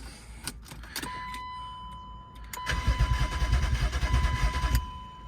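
A BMW E36 engine cranks without catching after its EWS immobilizer was bypassed with jumpered wires and a battery relocated to the back, the starter whirring in a steady, loud rhythmic churn after a few clicks and brief starts.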